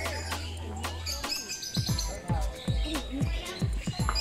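Birds chirp inside a bird feeding dome, with short tweets and calls scattered over the clip, mixed with nearby thumps and knocks. A low hum fades out early on.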